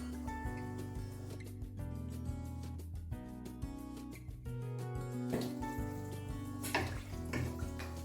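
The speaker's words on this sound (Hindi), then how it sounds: "4 कप हमने चावल यूज़ किए और हम 7 कप पानी के यूज़ करेंगे।" Water is poured steadily into a pot holding four cups of rice, seven cups in all for a lamb neck curry meal, a continuous close splashing stream with faint metallic clinks and no talking.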